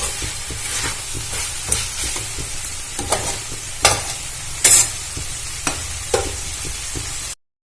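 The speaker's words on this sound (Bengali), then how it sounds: "আমি অল্প একটু কষিয়ে নেব।" Mushroom curry being sautéed for a bati chorchori sizzles steadily in a pan, with repeated sharp scrapes and knocks of a stirring spoon at irregular intervals, close by and without speech, ending abruptly.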